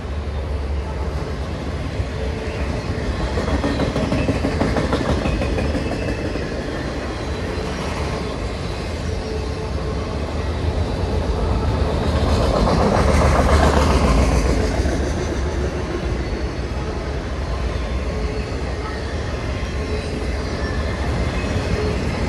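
A Norfolk Southern freight train carrying mixed loads and empties, including plastics cars and auto racks, rumbles steadily past for the whole stretch, the broadband roar swelling slightly midway without a break.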